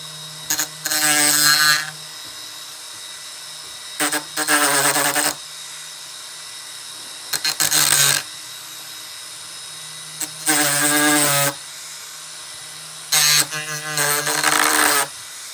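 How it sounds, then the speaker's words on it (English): A power grinder grinds down an angled piece for a yard run-around track add-on in four separate bursts of a few seconds each. A low steady hum fills the gaps between the bursts, and no one speaks. "See if we can grind it. I see it's at an angle a little bit. We'll grind it off."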